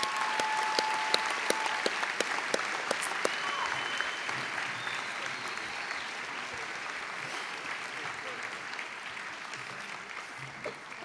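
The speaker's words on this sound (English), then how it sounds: "if I could have a round of applause for these new captains." Sustained applause from a crowd at a military commissioning ceremony, many hands clapping steadily and gradually tapering off toward the end.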